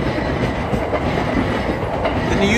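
A Yamanote Line train on a Tokyo street-side track rolls past close by, giving a loud, steady rumble and rattle of wheels on rails with no voices.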